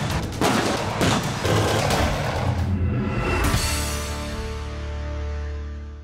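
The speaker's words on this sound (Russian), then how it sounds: "грохот танковых пушек – самый яркий праздничный салют" Heavy tank cannon blasts boom out in quick succession as a celebratory salute, then a long rumbling echo rolls away and fades into the distance.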